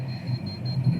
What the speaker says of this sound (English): it started beeping again